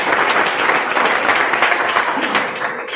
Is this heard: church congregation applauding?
yes